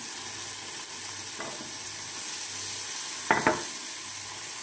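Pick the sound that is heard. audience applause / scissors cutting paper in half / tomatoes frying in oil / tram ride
tomatoes frying in oil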